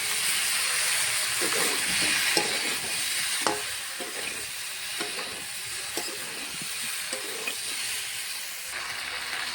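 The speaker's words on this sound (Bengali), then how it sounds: "এখন ভেজে রাখা কপিটা দিয়ে দেবো। কপির সঙ্গে কিছুক্ষণ কষিয়ে নিয়ে জল ঢেলে দেবো।" Fried cauliflower and potatoes stir-fried with spices in oil in a pan: a continuous, loud, hissing sizzle with scattered sharp clicks and scrapes from stirring, steady throughout with no voices.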